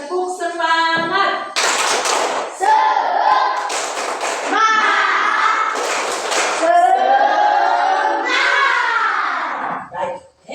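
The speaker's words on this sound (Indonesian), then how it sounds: "Tepuk semangat." A group in a classroom or prayer gathering does the 'tepuk semangat' spirit clap: loud, rhythmic bursts of hand clapping in patterned sequences, interleaved with voices chanting along, close and lively, ending abruptly.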